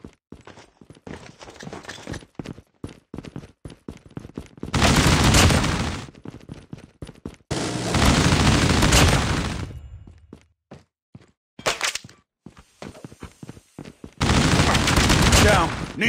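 Bursts of automatic gunfire from a Call of Duty match, long sustained volleys broken by scattered single shots and footstep-like clatter, loud and close across the whole stretch.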